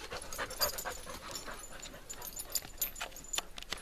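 A dog pants quickly and steadily at close range, with a few faint whimpers and yips mixed in over a busy background of other dogs.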